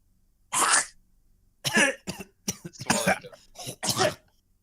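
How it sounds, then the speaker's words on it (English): A person coughs several times close up: one cough, a pause, then a cluster of harsh, rasping coughs in quick succession. "you're coughing a bit because of the dust"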